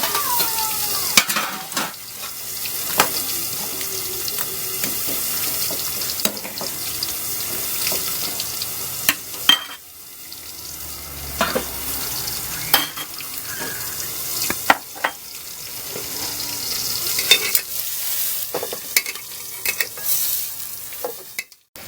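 Sprite or water boiling in a pan for a shrimp salad gives a steady bubbling, sizzling hiss that runs through the whole stretch, with scattered clinks and knocks and no talk.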